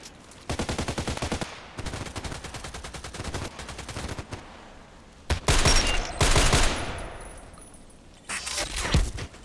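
Video game gunfire in several dense bursts of rapid shots, loud and close, with a short gap and then heavier blasts toward the end.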